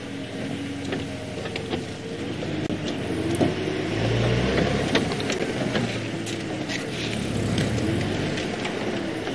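A safari vehicle on a sunset game drive through the bush, its engine droning and shifting steadily while mechanical clunks and rattles come through, loud and close, with no talking.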